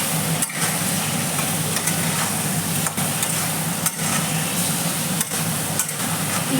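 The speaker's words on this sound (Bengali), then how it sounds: "ভালো করে নাড়িয়ে নিলাম।" Food is stirred in a hot pan under a loud, continuous sizzling hiss, broken by regular brief scrapes and knocks of the utensil against the pan.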